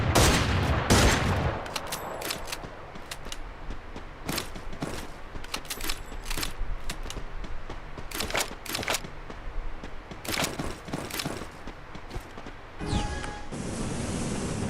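Gunfire in the mobile shooter Free Fire MAX, with a loud volley at the start and then scattered sharp shots and short bursts at irregular intervals, no speech.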